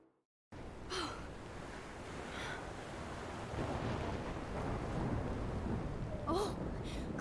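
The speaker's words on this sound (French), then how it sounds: "Ensemble devant la tempête." A thunderstorm in Life Is Strange builds as a steady, loud roar of wind and rain after a silent start, with faint rumbles rising through it.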